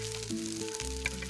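Small anchovies and dried shrimp fry in butter in a hot pan, giving a steady close sizzle with a stirring scrape and a faint tonal hum underneath, brief and without talking.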